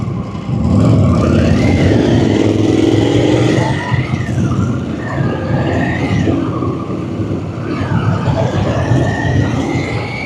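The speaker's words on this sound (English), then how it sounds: "this is just a first ride impression of the Pan America from Harley Davidson" A Harley-Davidson Pan America adventure motorcycle engine runs loud and steady during a ride, with rising and falling pitch as it revs and shifts, underlaid by constant wind rush.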